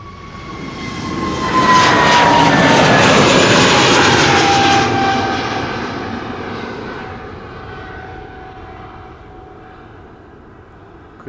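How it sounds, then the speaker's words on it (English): A Boeing 777-200 at Amsterdam Schiphol spooling up its jet engines for takeoff from a distant runway, the roar swelling to a loud peak with rising whine tones before slowly fading away. "Could hear a 777 in the background, already spooling up, taking off from center."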